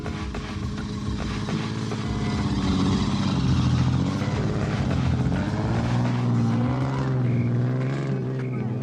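Off-road race truck in the 1993 San Felipe race, running on a catch-up drive: a sustained engine drone rising and falling in pitch, swelling louder midway and then easing, with no voices over it.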